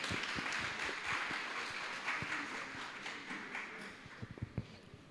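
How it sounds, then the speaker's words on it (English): Scattered, fairly quiet applause from a conference audience during a morning session, a steady patter of hands with a few sharper claps standing out near the end. "I think we all deserve a round of applause."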